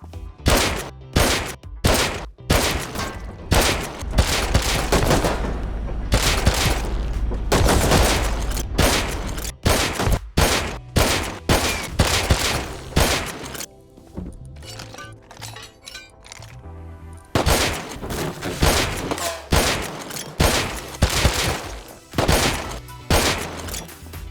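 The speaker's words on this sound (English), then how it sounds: "Cue the headshot montage." Rapid gunfire from the survival game Rust rings out in sharp, loud bursts, single cracks and quick volleys spaced through the stretch, with a long sustained barrage near the middle and no talking.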